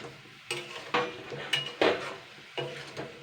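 Onion, chili, garlic and tomato being stirred in a pan, a few distinct clinks and scrapes of a utensil against metal spaced about half a second apart, close but fairly quiet.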